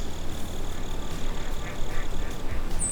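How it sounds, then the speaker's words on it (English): Mallard ducks quacking outdoors during a Mississippi duck hunt, heard as a steady stretch of calls over constant wind and field noise, with no talking. "as soon as the sun got up and the wind started blowing, the mallards started flying"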